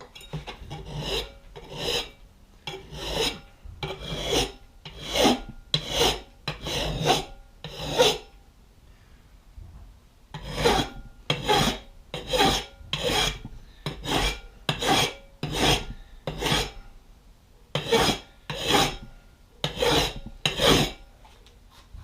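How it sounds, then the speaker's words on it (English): A drum sander chucked in a drill press grinds the edge of a custom backup camera adapter plate for an RV, in repeated short rasping passes with brief pauses between, close and fairly loud, with no talking. "I've just got a drum sander on my drill press, and I'm coming in"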